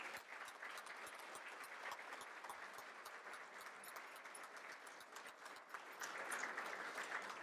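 Audience applause fills a hall of honorees and guests at a conference athletics hall of fame ceremony, steady dense clapping that holds through the whole stretch and swells slightly near the end, with no voices.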